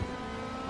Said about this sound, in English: he'll try and get a late acceleration and gain on Deeney coming down this back straight